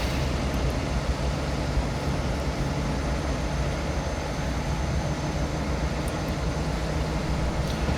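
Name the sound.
Class 47 locomotive running, from video game Train Simulator 2018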